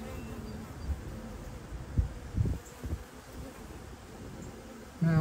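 Honey bees buzz steadily around an open hive during a brood inspection, a soft continuous drone with a few brief louder bumps and handling noises, no talk.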